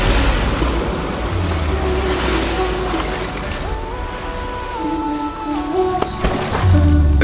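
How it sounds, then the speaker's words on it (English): Indian Ocean surf on the Sri Lanka coast washes in a continuous loud roar, with wind buffeting the microphone and a faint engine hum drifting by in the background. "This is the Indian Ocean, Sri Lanka's coastal belt."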